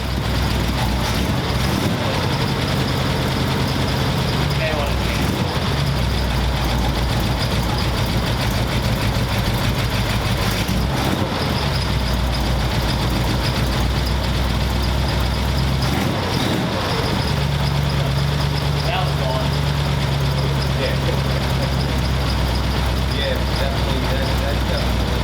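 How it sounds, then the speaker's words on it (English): A 1932 Ford roadster's engine catches and settles into a loud, heavy, rumbling idle that runs throughout, close by, with brief bursts of revving and people talking nearby. "we're gonna start it up here with everything in the car hooked up"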